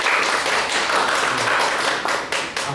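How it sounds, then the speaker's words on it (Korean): Applause welcoming a professor's lecture on neutrinos at a Korean science book event, a dense crowd clapping steadily and evenly throughout, close and moderately loud, with no talk over it. "박수로 환영해 주십시오"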